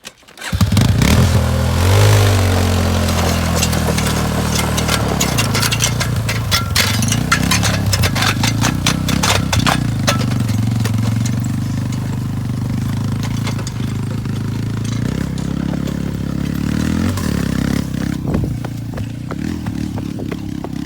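A Yamaha engine drones loud and close while dragging a pulled Polaris engine to a scrap pile, with metallic clinks and clattering scattered over the steady running.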